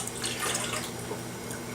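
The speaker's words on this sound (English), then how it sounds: "And then we'll just pour the water." Warm water poured into a bowl of eggs as the wet ingredients for a batter are mixed, giving a steady, close splashing rush throughout with no talk.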